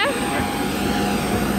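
A passenger airplane's engines drone loudly and steadily at close range while passengers climb the boarding stairs on departure from Crimea, with people talking over the constant whine and rumble.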